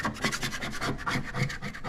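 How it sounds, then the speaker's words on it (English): Sanding and scraping paint off a Hot Wheels toy car produces a continuous run of close, rasping rub strokes at a steady rhythm, with no talking. "it's really scraping off the Hot Wheels again"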